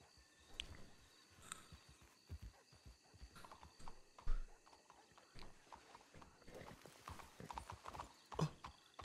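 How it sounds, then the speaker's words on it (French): Horse hooves clip-clop steadily at a walking pace in a game, with an occasional whinny and soft background ambience, fairly quiet throughout. "Qu'est-ce qu'il a ce cheval là?"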